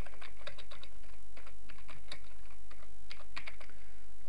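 Fingers type steadily on a computer keyboard while entering PowerShell commands, a fairly quiet run of quick, uneven key clicks over a low background hum.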